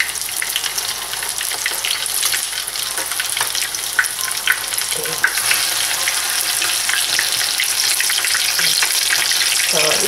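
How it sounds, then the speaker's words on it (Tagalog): A rolled chicken morcon deep fries in oil over low-to-medium heat, giving a steady, close, crackling sizzle throughout with no talking. "i-fry lang natin to hanggang maging golden brown"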